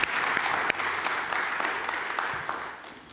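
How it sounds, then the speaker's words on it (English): Audience at a DappCon24 conference session applauds a speaker, a steady, dense wash of clapping from a sizeable crowd that holds for a few seconds and tapers slightly at the end, with no talking over it. "Everyone give a big round of applause for Ivo again."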